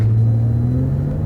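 Lexus car accelerating hard from a stop, a loud low engine rumble with a steady rising drone heard from inside the cabin.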